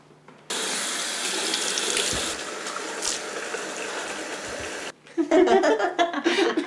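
Water gushes loudly from a bathroom tap into a sink in a close, continuous rush, stops abruptly, then gives way to splashing and sloshing as someone splashes water on their face.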